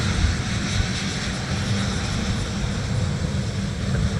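Airliner taxiing at Minneapolis–Saint Paul airport, a steady loud low engine rumble and broadband roar that holds constant throughout, heard up close with no speech.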